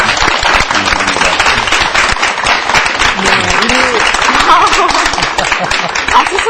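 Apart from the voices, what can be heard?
studio audience applause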